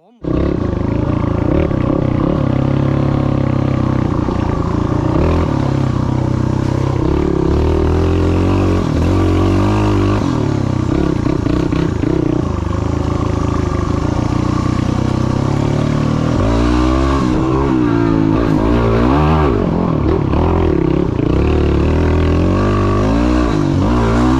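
A Yamaha motorcycle on a steep hillclimb up Dadong Mountain in China roars loudly and continuously, its revving engine rising and falling in pitch, close and with no talk.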